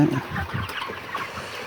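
Three-day-old broiler chicks cluck in soft, scattered bursts close by, over a low murmur of the flock.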